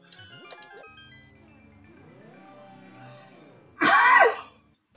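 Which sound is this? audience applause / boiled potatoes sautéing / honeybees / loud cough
loud cough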